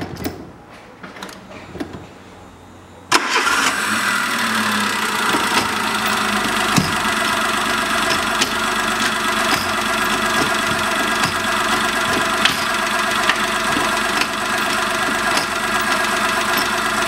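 A 2011 Daewoo Matiz 0.8 engine, running without its air filter, cranks and catches after a few seconds of quiet handling noise, then settles into a steady, slightly knocking idle that continues close and alone.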